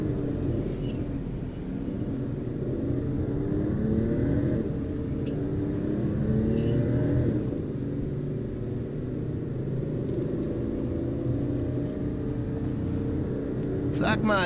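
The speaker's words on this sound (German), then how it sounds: "Ich höre Magitech-Motoren." Magitech engines in the video game Final Fantasy XV give a steady, low rumbling drone that continues throughout, with voices talking over it and a few short bright clicks.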